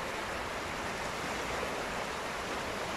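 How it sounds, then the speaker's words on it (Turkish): Floodwater of the Cüğrü stream in Ünye rushes hard after heavy rain, a loud, steady roar of turbulent water filling the scene from close by, with no voices. "Müthiş bir su akıntısı var."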